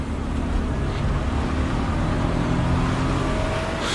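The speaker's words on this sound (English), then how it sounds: "There's a car coming." A car rumbles along a road in an old film scene, a steady low engine drone growing slightly fuller over four seconds, with no voices over it.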